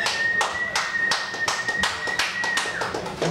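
Clapping from an audience at an open mike show, a handful of sharp, roughly regular claps close by with a steady high tone running beneath them.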